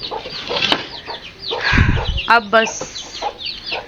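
Domestic chickens cluck and squawk close by while being fed, with sharp bursts of fowl calls and some wing flapping mixed with a voice speaking briefly.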